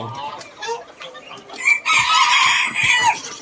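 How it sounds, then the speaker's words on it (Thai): Bantam roosters crow loudly and bantam chickens cluck nearby, a busy farmyard chorus with overlapping calls filling the last half. "แล้วก็มีกลุ่มไก่สีเทา"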